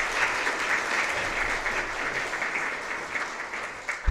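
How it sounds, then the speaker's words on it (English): An audience claps steadily in a lecture hall to welcome a professor giving an address on the revival of the Hebrew language; dense, sustained applause runs throughout, swelling slightly near the end. "If you'll all just give him a round of applause."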